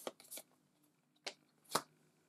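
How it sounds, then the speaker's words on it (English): Senjutsu board game cards are shuffled by hand, face down on a table, four quick papery riffles and snaps spaced apart, close and quiet, with no talk. "So I'll turn them face down, give them a shuffle,"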